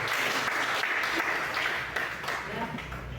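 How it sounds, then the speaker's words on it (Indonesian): An audience at an Indonesian school coaching and academic supervision event bursts into sustained, dense applause that stays loud and even throughout, with a faint voice underneath. "Tepuk tangan untuk Kristus."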